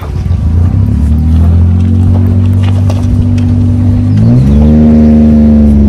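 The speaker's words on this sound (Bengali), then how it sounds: "উঠতে পারছে না গাড়িটা। 2 দিন বা স্টার্ট বন্ধ হলো, এখন উঠছে আবার।" A car engine strains uphill on a mountain road in Uttarakhand near Auli: a loud, steady droning hum that shifts and rises in pitch near the end as the car climbs.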